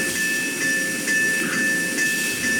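A steam locomotive on the move gives a loud, steady hiss and rumble with a sustained whistle-like tone and faint rhythmic pulses, no voices.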